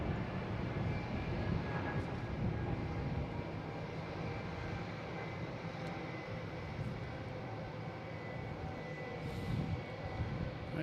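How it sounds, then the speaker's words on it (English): JetBlue Airbus A220 jet taking off at an airport, a steady broad engine roar with a faint whine, heard from a distance and holding fairly even throughout, with no talking. "Oh, we got a JetBlue here taking off."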